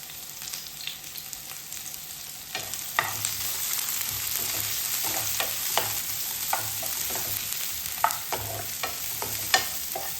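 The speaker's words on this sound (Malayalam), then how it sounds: "അപ്പോൾ ഇതിന് നമുക്ക് ഒന്ന് വഴറ്റിയെടുക്കാം." Chopped onion and a dried red chili sautéing in a pan for a healthy breakfast dish, with a steady sizzle and repeated scraping stirs of a spatula, close and alone without talk.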